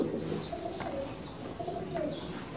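Pigeons coo in a loft at a pigeon market in Dhaka, with soft repeated calls that are fairly quiet over faint background noise.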